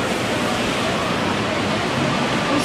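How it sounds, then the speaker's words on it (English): Surf at Daytona Beach sends up a continuous, fairly loud wash of waves and wind, steady throughout with no distinct breaks. "There's the beach."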